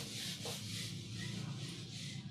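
A drawn chemical structure is rubbed off a board during a chemistry lesson on aromatic hydrocarbons, a soft, steady scrubbing swish that continues for a couple of seconds, close and quiet.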